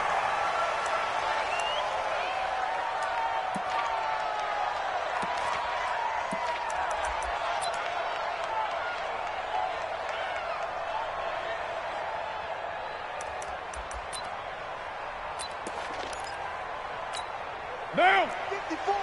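Steady broadband crowd roar from the stands at an NFL video game matchup between the Tennessee Titans and the New York Jets on PS4, holding constant throughout with a few brief sharper accents near the end.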